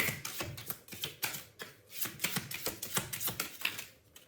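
A tarot card deck being shuffled up close, with quick papery riffles and taps arriving in an irregular run of bursts, quiet and with no talking.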